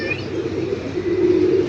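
A blue pigeon gives a low, soft cooing call close by, a short throaty hum that swells slightly toward the end, with a faint chirp at the start.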